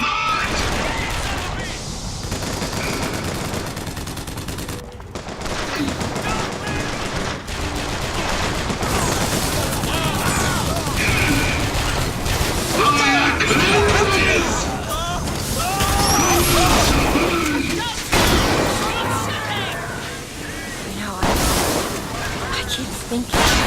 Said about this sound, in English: Sounds like they're fighting.